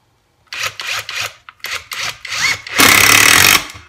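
A Greenworks 24V cordless drill drives a 1 1/4 inch screw into wood in several short, loud whirring bursts, then finishes with one longer steady run before stopping.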